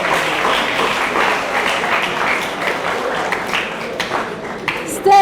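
An audience claps steadily through a school centenary celebration, a dense, continuous patter of many hands held at a fairly loud level, with a louder burst at the very end.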